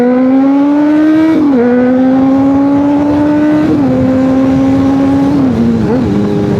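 A Honda CBR600RR sport motorcycle with no catalytic converter screams at high revs as it accelerates, dropping briefly at each of three gear shifts before climbing again, loud and close.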